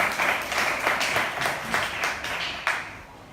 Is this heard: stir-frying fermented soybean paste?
no